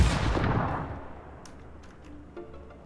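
A grenade blast in the battle royale game PUBG booms loudly at the start, then its rumble and echo fade away into quiet, with a few faint distant pops afterward.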